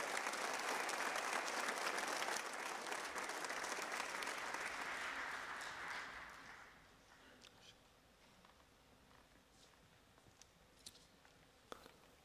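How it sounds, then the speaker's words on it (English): At a remembrance night event, the audience gives guests a round of applause: full, loud clapping for about six seconds that quickly thins out to a few scattered claps and quiet room noise. "Give them a round of applause."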